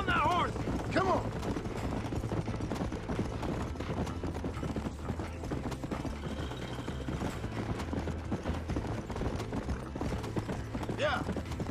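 Horse hooves clip-clop steadily during riding in the video game Red Dead Redemption, a continuous rhythmic trotting under game music and ambience, with brief vocal sounds near the start and end.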